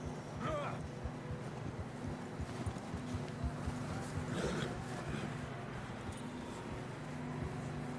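Horses gallop along a trail in Red Dead Redemption 2, a steady rolling patter of hoofbeats running under wind noise throughout, with a couple of brief higher sounds rising above the hooves.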